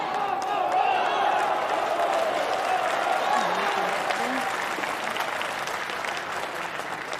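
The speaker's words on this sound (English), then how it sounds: "Local fans are cheering the Chinese team, who are also playing in this session." Local fans at a wheelchair curling session in an arena cheer and clap in a sustained crowd roar, loud at first, then gradually easing, with faint voices mixed in.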